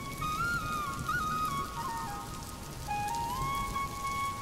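Steady rain falls in a cartoon scene, a continuous even patter heard alone with thin whistling melodic tones drifting above it.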